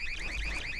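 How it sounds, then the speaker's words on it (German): An alarm wails in the Trouble in Terrorist Town game, a rapid warbling electronic tone pulsing in quick even cycles, loud and steady throughout. "Alter, dieser Alarm, ne?"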